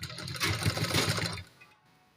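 A sewing machine stitches gum lace onto the side slit of a kameez, running in a steady, close whirring burst for about a second and a half before stopping and leaving near silence.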